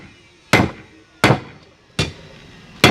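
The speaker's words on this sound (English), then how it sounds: "He just wanted to use his new hammer." Four sharp, evenly spaced hammer blows ring out on metal while a fire poker is forged, each a loud close strike with a short decaying ring and quiet gaps between.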